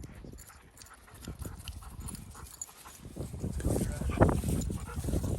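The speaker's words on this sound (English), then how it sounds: "dogs are out here, they're loving it" Dogs playing outside in a newly fenced play area, with scrambling paws, panting and movement noises. The sounds build louder toward the end and a voice is heard at times.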